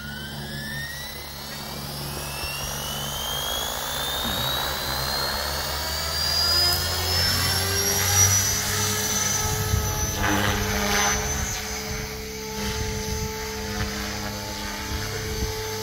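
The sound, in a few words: radio-controlled helicopter flying inverted, rotor and motor noise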